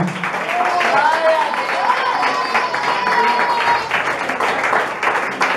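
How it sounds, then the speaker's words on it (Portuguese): Church congregation applauding together during a Portuguese-language sermon, dense sustained clapping filling the room with a voice speaking over it. "Você pode aplaudir o Senhor, aplauda."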